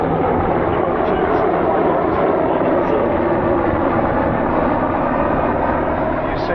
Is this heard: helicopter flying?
yes